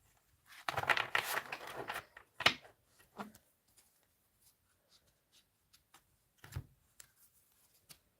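Tarot cards being shuffled by hand, a dense burst of riffling and slapping for about a second and a half, then scattered soft clicks and taps of cards being handled in a quiet room.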